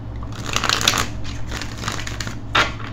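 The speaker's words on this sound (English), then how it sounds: "Okay, I'm going to shuffle it. Just give them a quick shuffle." A deck of tarot cards being shuffled: a steady crisp riffle and rustle of cards for a few seconds, close up with no talking.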